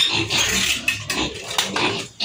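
Piglets about two months old, recently separated from their sow, grunting and squealing in a farm pen, with a busy overlapping chorus of close oinks and higher squeals.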